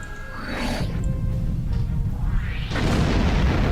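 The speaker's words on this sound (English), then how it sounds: "fire off the heavy torpedo." A heavy torpedo fired from a Romulan ship in Star Trek Online: a sweeping whoosh, then a booming blast around the one-second mark and another surge of roaring explosion late, all loud and close.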